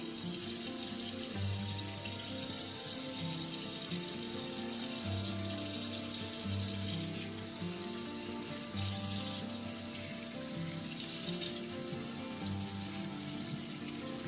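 Water runs steadily from a tap over a staghorn fern plant being soaked, a continuous close rush with a low hum underneath, no talking.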